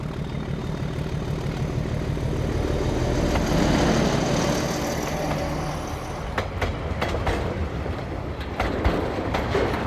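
New Zealand Railways diesel locomotive 512, numbered 1429 and in fruit salad livery, rumbles past with a steady engine drone and rhythmic clickety-clack of wheels over rail joints, swelling midway, then sharper clanks and squeals as wagons pass.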